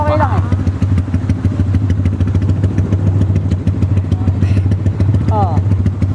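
A motorcycle's engine drones steadily as it rides through flood water in Bocaue, with a loud, constant low hum and occasional clattering and splashing, while people talk nearby.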